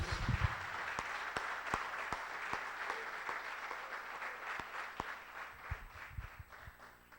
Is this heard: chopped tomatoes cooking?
no